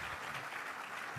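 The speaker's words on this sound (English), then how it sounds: "Please give General Brunson a big round of applause" An audience at a land forces conference breaks into steady, dense applause, many hands clapping together at close range in a continuous wash with no pauses.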